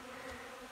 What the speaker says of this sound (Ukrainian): Це з сусідньої пасіки прилетіли бджоли